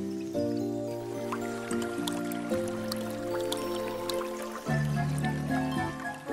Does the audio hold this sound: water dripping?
yes